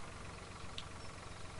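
Tractor engine with a cultivator attached in the farming game Landwirtschafts-Simulator 2013, a steady low idling drone, even and faint, with no talk.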